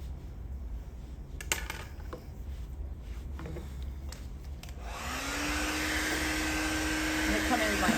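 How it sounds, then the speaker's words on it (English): A handheld hair blow dryer switches on partway through, a steady loud whooshing roar with a constant motor whine, after a stretch of quieter handling sounds and rustling. "you can just take your blow dryer and just maybe bring these guys together"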